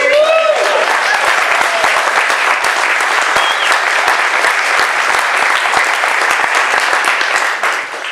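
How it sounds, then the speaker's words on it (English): Loud, even applause from a seated audience at a 2016 scientific excellence awards event, holding steady throughout before easing off at the very end; a brief voice is faintly audible at the start. "Let's give Natalie another round of applause."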